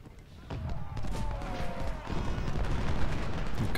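Grand Battery artillery firing in the Gettysburg battle of the strategy game Ultimate General, a steady rumble of overlapping booms and gunfire with crackling musketry, continuous and fairly loud, with faint game voices mixed in.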